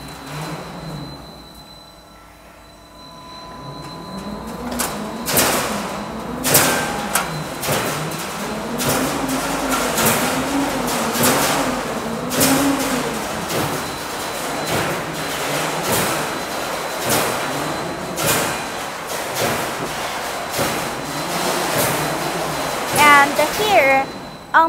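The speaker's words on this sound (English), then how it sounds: "On the forming machine, it has combined the 18 rolling stations. It's half controller with gearbox transmission." A scaffolding roll forming machine with 18 rolling stations and a gearbox transmission runs with a continuous mechanical rumble, rhythmic metallic clanks and a wavering whine, with a brief squeal near the end.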